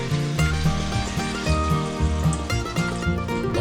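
Water poured from a container into a cooking pot of squash pieces in a home kitchen, a steady splashing pour running for a few seconds close by, with no talk.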